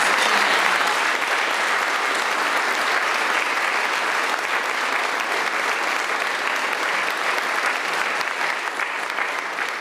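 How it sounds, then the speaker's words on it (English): An audience gives a sustained round of applause for a color guard and singers at a ceremony, a thick, even roar of many hands clapping that holds steady for the full length and tapers slightly at the end. "Let's give one more round of applause to our color guard and the beautiful voices."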